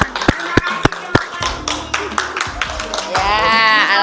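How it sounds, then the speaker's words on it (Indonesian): A class of fifth-grade students claps hands in scattered sharp bursts, a few loud separate claps followed by a looser run, with voices talking over the end. "Tepuk tangan."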